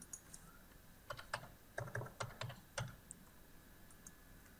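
A student ID being typed on a computer keyboard: a quick run of soft keystrokes in the middle, faint and close, then a few isolated taps.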